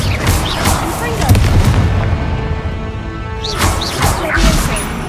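The Confringo blasting spell in Hogwarts Legacy goes off as heavy booming explosions with crashing debris, loud and continuous, with bursts near the start and again after a short lull, layered over game effects.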